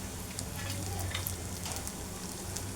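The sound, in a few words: frying red chilli and spices in oil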